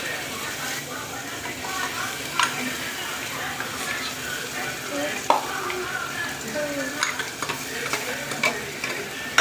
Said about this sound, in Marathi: आपला मसाला टाकायचा आहे मिक्सरतून काढलेला.